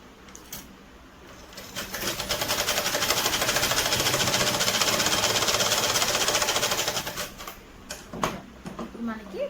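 A sewing machine stitches a birthday frock in a steady, buzzing run that rises and holds for several seconds, then stops. Brief handling clicks come before and after, and a person talks around the stitching.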